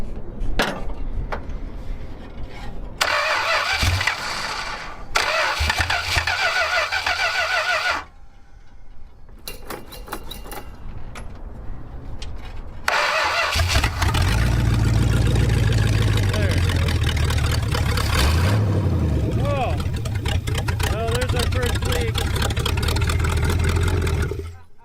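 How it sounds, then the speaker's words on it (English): An idling junkyard Chrysler car engine runs with its idle being turned up, a low rumbling hum that rises louder in the second half, broken by short gaps, with people talking over it. "Let's try turning the idle up a little bit."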